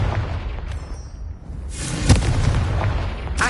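A Confringo blasting spell explodes in the Hogwarts Legacy video game: a rushing surge builds into a single loud, sharp boom, followed by a sustained roaring rumble and a second burst at the end.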